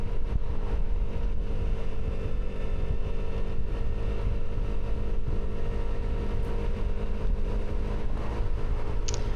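A Vespa scooter riding through a large intersection on a coastal road, with a steady engine drone and heavy rushing wind noise that stays constant and close throughout, and no voices.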